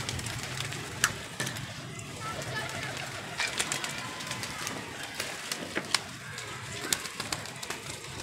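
Pigeons coo and rustle nearby, soft and fairly faint, with scattered sharp clicks and flutters, while a person speaks intermittently.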